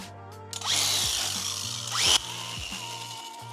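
A floor polisher fitted with 400 grit pads grinds over stained polished concrete. Its motor whine rises sharply at start-up and holds a close, steady, humming drone.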